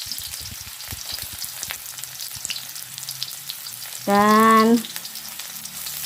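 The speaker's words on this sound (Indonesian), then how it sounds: "Saya akan tumis terlebih dahulu bawang putih dan kemudian tidak lama lagi saya akan masukkan bawang merahnya." Garlic sautéing in hot oil in a wok, a soft steady sizzle with scattered crackles and light taps, briefly covered by a short loud tonal beep near the end.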